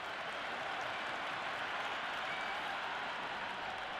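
Stadium crowd applauding after a big hit in the PS5 cricket game Cricket 26, a dense, even wash of clapping and crowd noise that holds steady at moderate volume for the whole stretch, with no talking.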